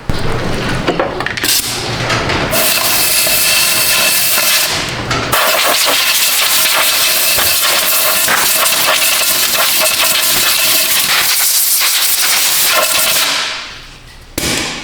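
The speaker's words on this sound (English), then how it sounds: "we'll get the blow nozzle and blow some of the junk out of there" Loud compressed-air blow nozzle blasting debris out of a Toyota Prius rear wheel hub area during a wheel bearing and brake job, a sustained hiss with brief pauses, close and alone.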